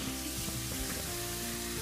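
Sausage and greens simmering in a pan over medium heat, giving a continuous soft sizzle and bubbling, short and steady with no voices.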